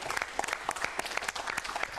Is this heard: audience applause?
yes